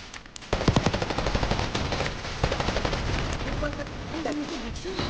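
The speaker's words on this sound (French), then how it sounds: "j'aime bien cette petite mitraillette là, elle est pas mal" Rapid bursts of submachine gun fire from an MP5-style weapon in Call of Duty Black Ops 6, dense and loud, with shots rattling steadily through the whole stretch amid other game noise.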